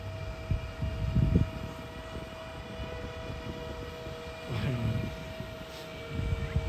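Remote control toy boat motor buzzing across water in a city park, a faint, steady whine with a few louder passes, heard alone without talk.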